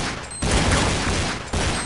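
Rapid gunfire from Counter-Strike 1.6 in a competitive match: a dense burst of close, loud weapon shots and impacts fills the whole moment, with a sharp jump in intensity near the start and another near the end.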